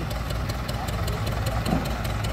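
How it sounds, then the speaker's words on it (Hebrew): A tractor engine labors through shallow sea water off Railay island, Thailand, giving a steady, close, mid-low rumble with a knocking idle character and constant broadband wash, with no clear breaks across the short stretch. "טרקטור סוחב בתוך המים"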